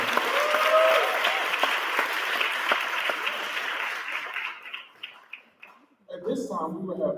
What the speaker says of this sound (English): Let's give all of our campus organizations another round of applause.